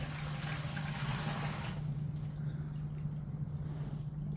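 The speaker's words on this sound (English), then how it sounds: "We'll take 1/2 gallon of water and pour into a turkey brining bag." Half a gallon of water is poured into a turkey brining bag, a soft, steady splashing stream that tapers off about halfway through, with a low constant hum underneath.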